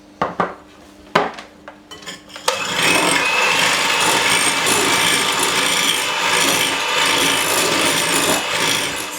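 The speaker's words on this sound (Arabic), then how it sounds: "وانا مستمره في التطراب على هذا الشكل هذا" Eggs and sugar are whisked by hand in a bowl. A few clinks and taps come first, then a continuous, fast, close scraping rattle of the whisk against the bowl, with no talking.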